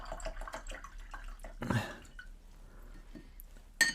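A paintbrush dipped and swished in a container of clean water, giving quiet, close sloshing and small drips with one brief fuller splash midway.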